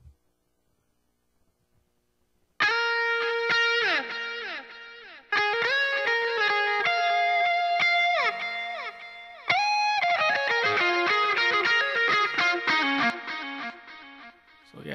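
Lead guitar solo with reverb begins after a couple of seconds of near silence, playing sustained and sliding notes in phrases separated by brief gaps, with no talking.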